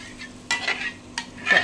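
Fish in half a kilo of yogurt masala being stirred in a frying pan: a few scraping strokes of a spoon over a soft sizzle, close up with no talking.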